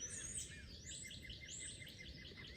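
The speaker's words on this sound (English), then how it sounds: "Birds chirping in here." Faint, distant birds chirp in short repeated high calls over a soft background hiss.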